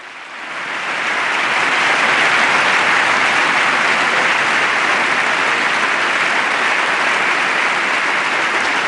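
Members of the US Congress give a standing ovation, a dense, loud wall of clapping that swells over the first second and then holds steady and unbroken to the end.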